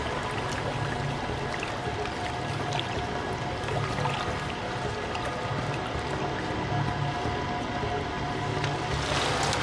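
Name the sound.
water splashing as the magician is lowered into the tank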